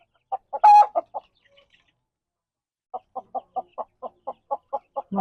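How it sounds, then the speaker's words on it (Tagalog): Native chickens on a mountain farm cluck in a steady run of short, evenly spaced calls, with one louder squawk early on, a brief pause, then a longer series of close, moderately loud clucks. "Mga native na manok."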